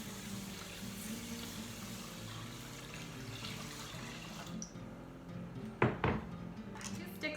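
Four cups of water poured into a pot for arroz con leche, a soft continuous pouring stream, quiet and close, ending with a few clanks of a pot or utensils.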